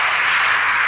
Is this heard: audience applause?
yes